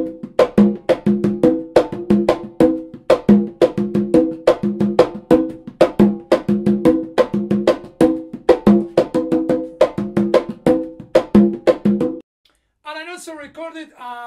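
Congas play a steady mambo rhythm, a dense pattern of crisp slaps and ringing open tones repeating for about twelve seconds before stopping, followed by a brief voice.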